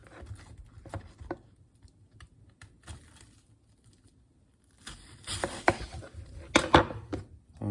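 A knife cuts an onion into quarters on a board, giving scattered soft chops early on and then a louder cluster of sharp knocks near the end.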